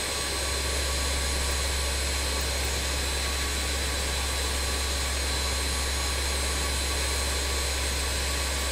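A BAe 146-200 jet engine starts up in the Microsoft Flight Simulator 2020 video game, producing a steady, loud, broadband turbine roar and whine that holds for about nine seconds with no talking.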